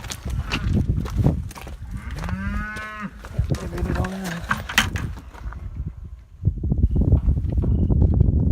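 Calves and cows moo on a muddy farm at feeding time, several long drawn-out bellows in the middle of the clip over a backdrop of shuffling hooves and outdoor rustle.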